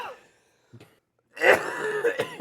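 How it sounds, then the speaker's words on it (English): A short cough at the start, a brief quiet pause, then a louder, rougher bout of coughing and throat clearing close to the microphone. "There's a lot of coughing."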